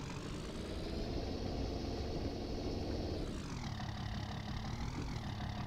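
A mower engine in the Farming Simulator video game, on a Swiss farm map, runs in a steady low drone that shifts in pitch partway through, heard alone without talk.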